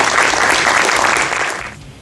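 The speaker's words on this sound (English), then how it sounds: "Little round of applause." A short round of applause from the crowd at a Robstown city press conference, a dense, steady clatter of many hands that carries for about two seconds before fading.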